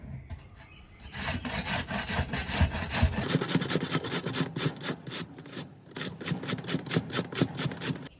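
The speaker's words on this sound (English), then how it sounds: "So that's shredded." A raw potato is shredded lengthwise on the coarse side of a box grater, giving steady rhythmic rasping strokes that grow quicker and more even partway through, close and fairly loud with no talking.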